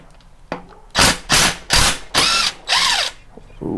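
Five loud, close bursts from a pneumatic impact wrench hammering push rod bolts loose on a Kohler 18 engine, each about half a second long with short gaps between them.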